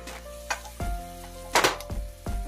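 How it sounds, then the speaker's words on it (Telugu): Chopped onions frying in oil in a pan for a spicy prawn pulao, a steady soft sizzle punctuated by several clanks of a spoon stirring against the pot, close and without talk. "కొంచెం గోల్డెన్ బ్రౌన్ కలర్ వచ్చేంత వరకు ఫ్రై అవ్వాలండి ఆనియన్స్ బాగా"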